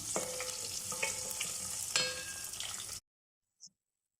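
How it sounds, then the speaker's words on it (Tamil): Small shallots sizzle in hot oil in a pan for a spicy king fish curry, a steady close frying hiss with occasional stirring scrapes for about three seconds, then abrupt silence broken by one faint short click. "ரொம்ப வதங்கணும்னு இல்லை, அனியன்ஸு கொஞ்சம் பிங்கிஷ் ஆகி வந்தால் போதும்"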